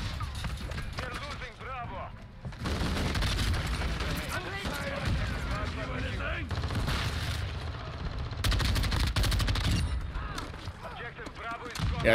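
Full-auto SO-14 rifle fire in Call of Duty MW2, loud sustained bursts of rapid game gunfire mixed with explosions and effects, with a voice talking over the action.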